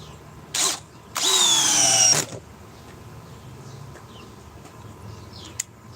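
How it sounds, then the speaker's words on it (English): A DeWalt XR DCD801 cordless drill runs at speed 2 in two bursts, first a brief blip and then a steady whir of about a second, close and fairly loud, followed by quiet room noise. "It's running in speed 2 on the DeWalt XR DCD 801."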